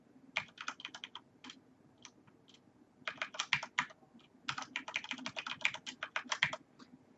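A password typed on a computer keyboard, quick bursts of close, crisp keystrokes with short pauses between runs, no voices.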